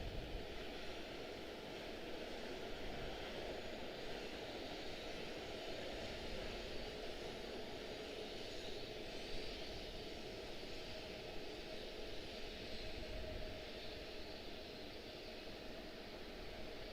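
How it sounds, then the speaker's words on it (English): A small Gulfstream G150 business jet at Washington Dulles airport gives off a steady, even roar of engine noise, distant and unchanging throughout with no voices. "Oh, it's a small little Gulfstream. G150."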